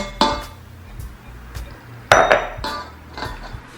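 Utensils knock and clink against a big mixing bowl while flour is stirred for bread dough, with a few irregular taps and one sharper scrape-and-clatter near the middle, close up and with no talking.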